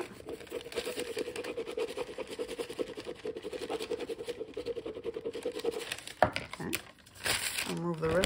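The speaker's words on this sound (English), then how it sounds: "Pull back your parchment." Parchment backing peeled off adhesive vinyl for a cold cup wrap, a close crinkling, tearing rustle lasting several seconds, then brief handling noises and a faint voice near the end.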